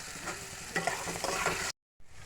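Potatoes, chickpeas and torn green chillies sizzle in a pan for a vegetarian pumpkin chhokka while a spatula stirs them with steady scraping. The sound cuts out briefly near the end and then returns.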